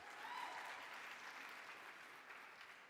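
Audience applause at a car launch event, a steady wash of clapping at moderate level that holds throughout, slightly distant with a hint of crowd noise.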